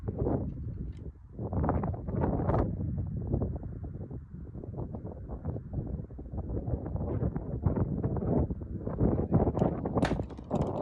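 Gusty wind buffets the microphone in a massive open field with no trees, a constant low roar rising and falling in rough bursts throughout, with no other clear sounds.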